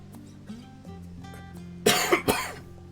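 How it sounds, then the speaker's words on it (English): A few harsh coughs from a person with coughs and hiccups, bursting out close and loud after a quiet stretch of background game music, with no talking. "I have coughs and hiccups at the same time"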